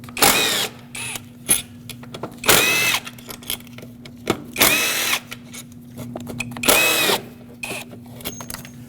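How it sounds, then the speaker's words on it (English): A power tool whirs in four short, loud bursts, backing out the four 10mm-headed bolts that hold the throttle body to the intake manifold of a 2006-2015 Lexus IS250, with faint clicks and handling between bursts. "Let's remove the throttle body off of the intake manifold. It's got 4 10mm headed bolts."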